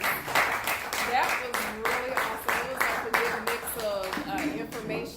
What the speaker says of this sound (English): give High on Heels a round of applause